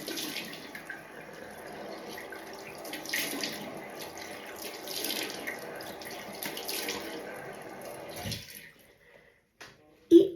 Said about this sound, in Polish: Teraz spłukuję wszystko pod bieżącą wodą.